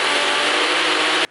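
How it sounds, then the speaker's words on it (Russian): A kitchen blender on its automatic setting runs loud and steady as one continuous whir, then stops abruptly near the end. "Вот так блендер взбивает 1 минуту, и потом останавливается."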